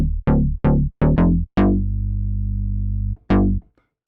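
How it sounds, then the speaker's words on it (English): FM-type synthesizer tones from a Rob Papen software plugin: a run of short plucked notes, then one note held for about a second and a half, and a final short stab, all loud and clear with no talk. "They have a little bit the tone of a FM type synthesizer."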